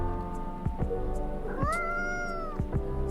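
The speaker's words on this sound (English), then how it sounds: "I don't think this is the coffee drinking sort of cat." A cat meows in the video game Coffee Talk 2, one clear drawn-out rising and falling call set over soft background music with a few light thumps.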